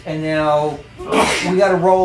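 A single sharp sneeze bursts out between stretches of a man's speech at a board game table, loud and close, followed by more talking.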